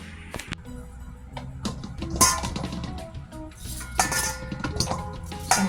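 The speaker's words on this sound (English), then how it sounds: "I'm cutting my coconut in smaller pieces" Coconut cut into smaller pieces in a home kitchen: a close series of irregular knife chops and clinks against a hard surface, mixed with rattling metal utensils and dishes.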